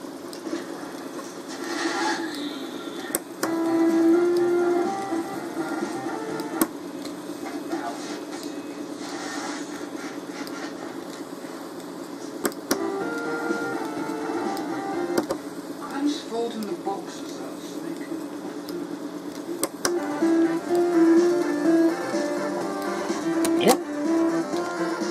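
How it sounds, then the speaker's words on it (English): Sonic the Hedgehog game music played back from cassette tape through a modified Sony TC-252 reel deck. It is a continuous, somewhat muffled and hissy stream of tones and beats with occasional sharp clicks. "now start the tape playing. Sonic the Hedgehog."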